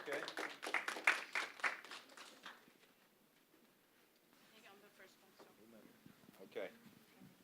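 Brief burst of clapping from a classroom audience as a student group is called up, fading after a couple of seconds into murmuring voices and shuffling.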